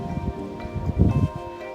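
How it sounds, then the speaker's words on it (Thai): Wind gusts outdoors at a waterfall site in Roi Et, Thailand, a rough low buffeting against the microphone with some rustling, rising and falling over a short stretch. "ลม"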